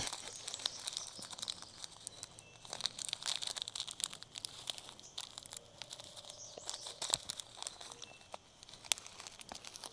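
Faint crinkling and tearing as a passion fruit seed is torn open, soft irregular crackles and small rips spread over several seconds, quiet and close with no speech.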